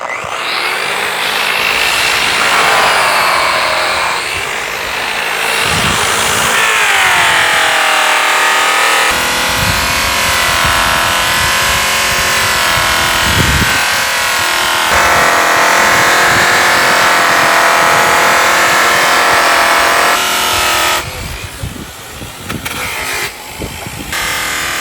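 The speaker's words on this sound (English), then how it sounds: "we're going to test this section with a stitch sewn pink buff in Q36 on stainless steel" Stainless steel being machine-polished with a stitch-sewn pink buff and Q36 compound: a loud, steady high-speed whine with a broad rough hiss, running continuously with slight pitch shifts before easing off near the end.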